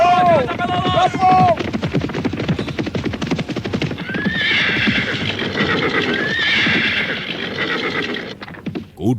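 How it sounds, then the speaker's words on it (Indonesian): Horses in an audio drama scene neigh loudly over a dense, continuous rumble of galloping hooves, with whinnies rising near the start and again midway and the drumming hoofbeats filling the whole stretch. "Ken Arok justru berhenti menunggu kuda-kuda yang memburunya"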